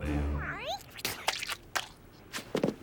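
A cartoon cat in a French animated series gives a short, wavering meow at the start. Bursts of dialogue and light sound effects follow.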